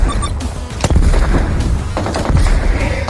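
Enemy hunting bow shot in the Game for Peace battle royale, a sharp loud crack near the middle amid dense gunfire-like bangs and clatter throughout, with no talking.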